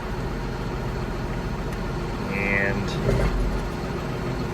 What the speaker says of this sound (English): Now I got those hydraulics hooked up. Put the tractor in neutral